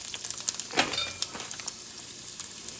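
Chopped onions dropped into a pot of chicken gnocchi soup that has simmered for nearly a day, giving a brief, bright splash-and-sizzle burst over a steady, faint background hiss with a few light clicks.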